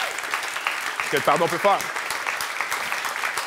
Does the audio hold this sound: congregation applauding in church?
yes